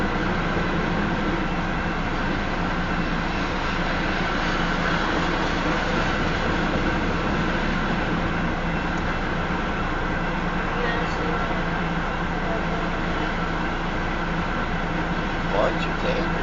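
Southbound Union Pacific freight train of tanker cars passing north of Elkhart, Iowa, a loud continuous rumble and rolling drone of cars going by, steady throughout without a break.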